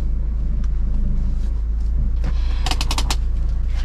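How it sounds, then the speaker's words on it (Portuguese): A car's engine rumbles low and steady while it is being parked, with brief mechanical clicks and a short burst of rattling near the end. "primeira vez que eu estaciono um carro"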